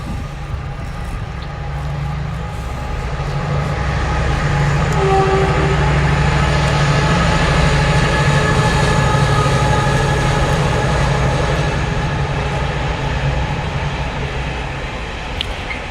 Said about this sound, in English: About to pass by is a Class 70 for Freightliner on its way to somewhere weird and wonderful.